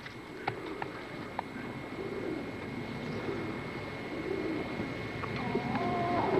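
Pigeons coo with soft, repeated low calls while being released to fly, with a few sharp chirps and flutters over steady outdoor background noise and no talk.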